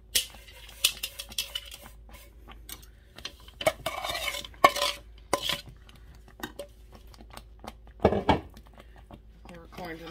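Sugar being stirred into a pot of chocolate raspberry sauce on a back stovetop burner, heard as repeated scraping and clinking strokes of a spoon against the pot, with a person talking in between.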